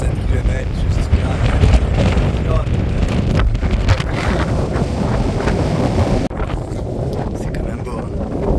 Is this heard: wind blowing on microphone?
yes